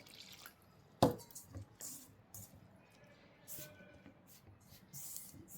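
Water is poured into Aashirvaad whole wheat flour (no maida) for chapati dough, giving one sharp splash followed by scattered drips and soft wet sounds close by.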